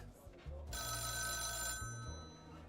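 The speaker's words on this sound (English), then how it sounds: "The phone call from Coralie's mother interrupted." A telephone rings in the detective video game Coffee Noir, a steady bright electronic ring lasting about a second over low background music, fairly quiet overall.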